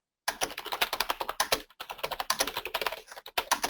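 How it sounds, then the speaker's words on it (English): Booking notes are typed fast on a computer keyboard, a close, rapid run of key clicks broken by one brief pause. "I'm just going to add in some notes if I wasn't typing so fast."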